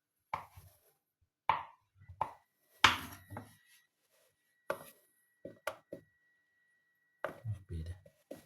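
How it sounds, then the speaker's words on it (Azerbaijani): A knife chops a block of hard Holland cheese for a crab salad, with crisp close cuts landing in short irregular bursts separated by brief pauses. "Bu şəkildə pendirimizi doğrayırıq."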